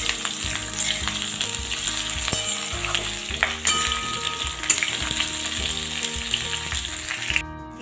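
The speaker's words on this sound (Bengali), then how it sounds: "এবার আমি এর মধ্যে কেটে রাখা এঁচোড়গুলো দিয়ে দেব। এগুলোকেও খুব ভালো করে ভেজে নেব।" Chopped jackfruit pieces fry with potatoes in hot oil for a vegetarian curry, a constant close sizzle with scattered clinks and scrapes from stirring, with no talking.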